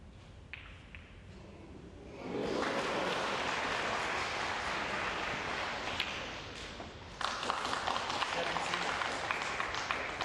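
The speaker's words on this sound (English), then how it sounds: "Crowd acknowledging that that was the ball that Stevens required to move in front" Spectators at a 2013 Wuxi Classic snooker quarter-final applaud a pot. A quiet hall is followed by clapping that swells abruptly and sustains, with a faint voice underneath.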